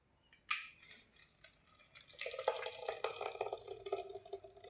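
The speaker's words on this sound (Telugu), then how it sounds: "అయితే నేను చట్నీ ఆడిస్తున్నా." Green chili chutney is ground in a mixie jar: a sharp knock, then a rising, gritty grinding whir that carries on to the end, fairly quiet, with no talking.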